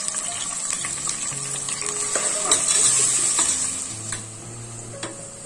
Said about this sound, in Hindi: आधा कम के लिए प्याज है, इसको अच्छे से तल लेंगे कलर चेंज होने तक।